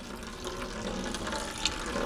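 CLR descaling solution flowing through household plumbing during a de-calcifying job, a steady rushing stream of water like a running tap, continuous and fairly loud with no talking.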